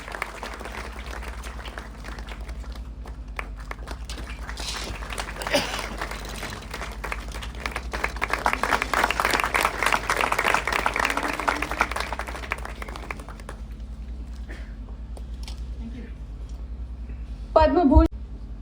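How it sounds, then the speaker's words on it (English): An audience at a centenary ceremony at ACPR Belgaum breaks into sustained applause, a broad wash of clapping that swells through the middle and fades, with speech over a public-address system before and after. "Definitely must be accompanied by applause."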